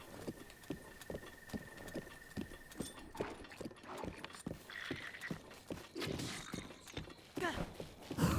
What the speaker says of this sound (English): We're just slowly trucking along here on our horse